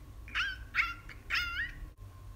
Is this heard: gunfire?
no